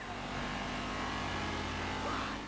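Car engine in GTA V racing through a chase, a steady broadband engine roar with road noise held at constant loudness throughout, no voice over it.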